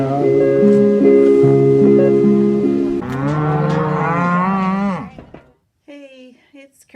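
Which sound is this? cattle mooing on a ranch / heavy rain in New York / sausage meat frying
cattle mooing on a ranch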